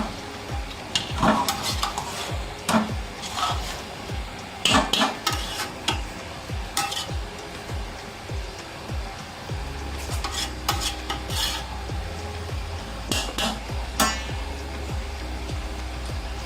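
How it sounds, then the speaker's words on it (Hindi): A spoon stirs dal through chicken pulao in a cooking pan, giving repeated scraping and stirring strokes over a steady sizzle with light clinks of metal on the pan, all fairly close. "अब हम इसमें दाल डाल देंगे। अब हम इसको मिक्स कर लेंगे।"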